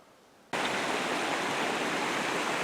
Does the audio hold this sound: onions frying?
no